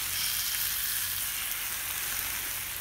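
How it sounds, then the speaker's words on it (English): Wagyu London broil steak sizzling in a hot pan, a steady bright crackling hiss without a break, fairly quiet and close, with no talking. "Can you hear it sizzle?"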